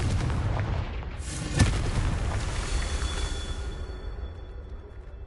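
Confringo fire spell in the video game Hogwarts Legacy bursting into a loud, rumbling explosion with a sharp crack partway through, then a broad roar that slowly fades while a thin high ring lingers.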